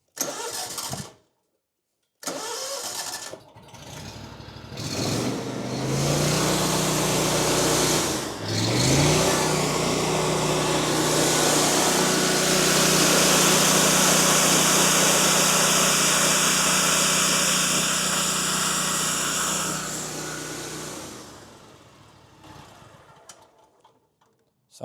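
A small engine starts up, revs with rising pitch, then holds a loud, steady high-RPM drone for several seconds before winding down near the end.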